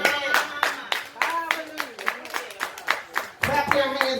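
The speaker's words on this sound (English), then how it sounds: "Come on, clap your hands right there." Church congregation clapping hands in a steady rhythmic beat over singing or music, the claps close and evenly spaced throughout.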